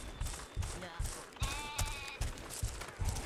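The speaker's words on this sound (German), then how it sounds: "Hier blöckt ja noch ein Schaf." Sheep bleating in the video game Overlord: Raising Hell, with short repeated game sound effects pulsing at a regular rhythm and a brief bleat rising partway through, clear and close.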